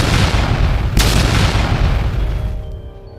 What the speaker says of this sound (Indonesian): Ledakan demi ledakan membakar area depan.